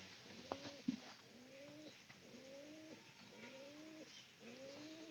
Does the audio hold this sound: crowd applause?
no